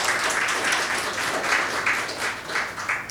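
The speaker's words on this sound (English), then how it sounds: "I think they should be given a round of applause." A room full of people at an annual general meeting claps in a sustained round of applause, dense and fairly close, lasting a few seconds with no talking over it.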